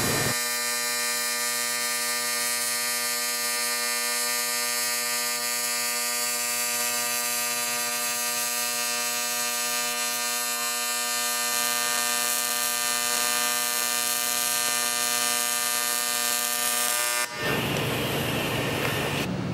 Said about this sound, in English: we are comparing a lap weld with the square, soft, and triangular waveforms